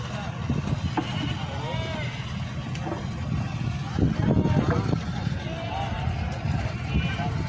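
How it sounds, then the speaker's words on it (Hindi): Teddy goats bleat now and then amid a crowded, noisy outdoor livestock market, with people talking throughout and the calls rising over the din. "ये टैडी बकरे हैं जी।"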